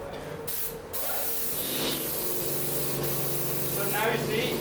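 A Graco sprayer lays finish onto cabinets at a slow spraying pace, giving a steady, close, continuous airy hiss that barely lets up across the whole stretch.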